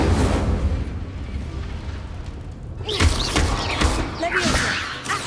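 An Incendio fire spell is cast in a Harry Potter game, a loud rushing whoosh of flame and rumbling burst with crackling debris that follows a stretch of steady low rumble.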